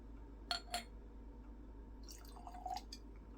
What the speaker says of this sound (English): so let's pour this out